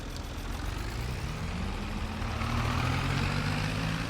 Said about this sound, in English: This tractor does not have 100 horsepower. It has 61. But we're hoping it'll do it anyway.